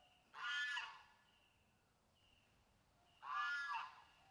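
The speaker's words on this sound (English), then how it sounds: "that is a very, very pissed off goose" An angry goose on a disc golf course on Samui gives two loud, harsh honking calls about three seconds apart, close by, with near silence between them.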